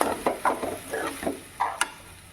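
A spoon stirring sabudana upma in a pan, giving six or seven short scraping strokes in an uneven rhythm, close and fairly quiet, with no voices.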